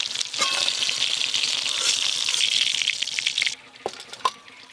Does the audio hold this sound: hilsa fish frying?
yes